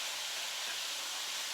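Chopped onions and celery sizzle steadily in a hot pan beside meat drippings, a close, even hiss with no talk.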